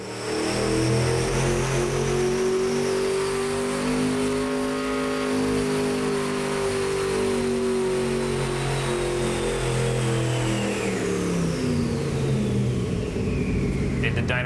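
A 1973 Camaro engine of about 1,500 horsepower revs at full throttle in one loud, sustained roar whose pitch climbs and then sweeps down, heard close and continuous throughout.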